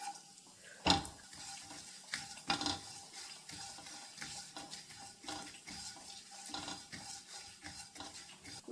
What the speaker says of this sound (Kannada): ಈಗ 1 ಟೀ ಸ್ಪೂನ್ ಆಗುವ ಉದ್ದಿನ ಬೇಳೆಯನ್ನು ಹಾಕಿ ಹುರಿತಾ ಇದ್ದೀನಿ.